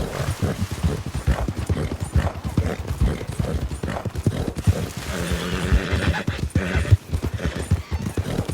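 Hooves from a horse in Red Dead Redemption 2 at night near Blackwater clip-clop in a quick, continuous galloping rhythm at close range, with occasional snorts and whinnies mixed in.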